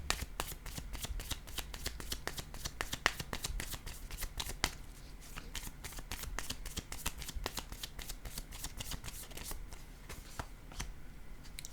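Tarot-style cards riffled and shuffled by hand, then laid out for a card reading: a close, rapid run of crisp flicks and snaps that continues steadily throughout.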